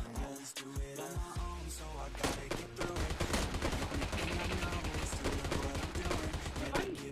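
Gunfire rattles through a fight in the mobile battle-royale game PUBG, with rapid automatic bursts and sharp single shots stacking into a dense, continuous barrage after a few quieter opening shots.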